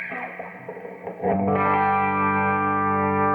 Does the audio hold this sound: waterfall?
no